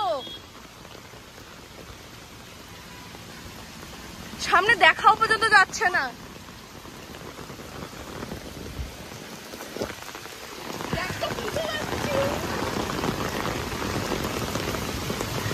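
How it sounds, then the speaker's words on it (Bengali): Steady, heavy rain pours at Rabindra Sarobar, with a dense hiss throughout, while a voice speaks briefly over it and a short rattling burst cuts in partway. "মুষলধারে বৃষ্টি পড়ছে ভাই"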